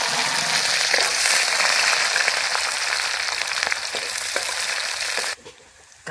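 Onion fries in hot oil for a duck curry, a loud, steady sizzle close by that cuts off abruptly near the end.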